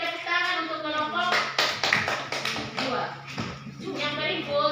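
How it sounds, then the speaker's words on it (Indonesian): A classroom of students claps for a student group, with scattered uneven hand claps under a teacher's voice that talks throughout. "Silakan dulu kita berikan tepuk tangan untuk kelompok"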